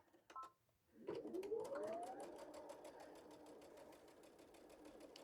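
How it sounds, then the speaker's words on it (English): Sewing machine stitching fabric for a quilted French braid table runner, a close steady mechanical whir that starts after a second and runs continuously at even volume, with a brief click just before it. "Then you're ready to sew it."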